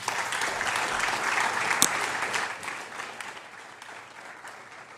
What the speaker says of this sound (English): Collective round of applause for our panel.